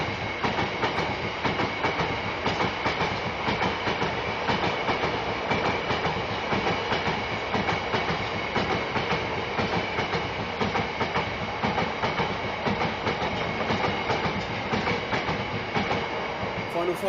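A Class 66 diesel freight locomotive, 66.176, hauls a freight train past Water Orton, a steady loud rumble with continuous wheel clatter over the rails sustained throughout.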